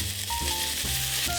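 Oxtail pieces sear in a pot of hot oil heated until it smokes, giving a steady, close sizzling hiss throughout with soft music in the background.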